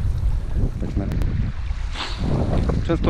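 Wind gusts across a riverbank during fishing in Iceland, a steady rushing roar buffeting the microphone throughout, loud and close, with faint water noise beneath.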